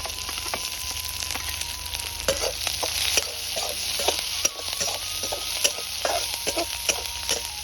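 Garlic goes into hot oil for Ratlami sev curry, with a continuous close sizzle of frying overlaid by sharp scraping and clicking stirring strokes at irregular intervals. No one speaks.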